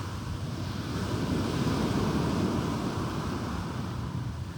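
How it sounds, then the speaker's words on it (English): Steady ocean surf rolls and washes continuously with a broad, even roar, no voices, sounding like waves breaking along a shore. "you can put the sound of waves on"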